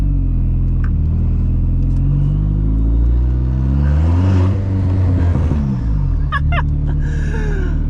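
A 1.8T engine swapped into a VW Golf 3 roars loudly and close, revving up and dropping back through deep rumbling pulls, with a clattering burble as the throttle lifts.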